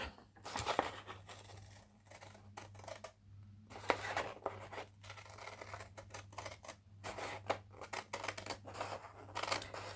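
Scissors snip through paper bags in a quiet craft setting while a journal is being made, with a string of crisp cuts in uneven bursts over a low steady hum.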